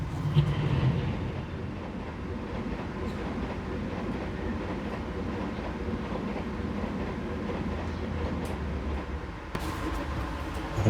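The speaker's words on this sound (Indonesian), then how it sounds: "Oke, diberangkatkan kembali dari stasiun Bango 2." Kereta Senja Utama Solo passenger train rolling along rails between Yogyakarta and Jakarta, heard from inside as a steady low rumble with rhythmic wheel clatter, continuous and fairly loud throughout, no talking.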